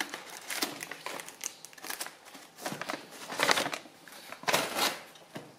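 A parcel from Brico Scrap being opened, with bursts of paper crinkling and rustling that come in irregular waves of handling, close and moderately loud, with no talking.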